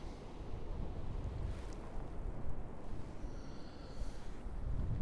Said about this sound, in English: It's horrendous, this wind.